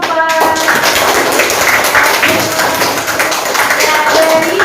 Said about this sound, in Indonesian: Nah, tepuk tangan untuk kelompok 4.